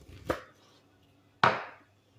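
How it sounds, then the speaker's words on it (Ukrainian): A knife chops onion finely on a board, two sharp separate chops about a second apart, close and clear with no talking. "І я її скришу дрібненько, дрібненько скришу ту цибульку."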